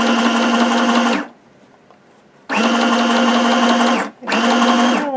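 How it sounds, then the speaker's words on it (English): A sewing machine stitches a straight seam on patchwork fabric in steady, loud motor bursts: one long run, a pause, then two more runs separated by a brief stop. "And this one we'll do a straight stitch."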